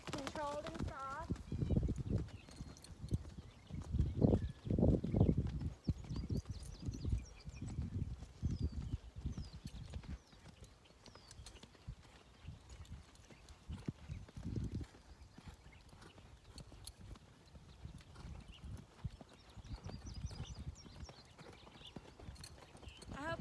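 A mare loping, her hooves thudding in a steady rolling rhythm at close range, louder early on, then softer and more distant, with some voice sounds in the background.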